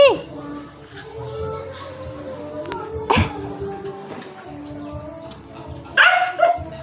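A dog named Nami gives several sharp barks and yips between whimpers while someone talks nearby, the barks scattered irregularly over the clip.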